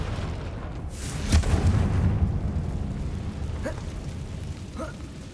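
A Confringo fire spell bursts in Hogwarts Legacy with a sharp, loud blast, followed by a sustained rumbling roar that slowly fades over several seconds, with a couple of fainter pops later.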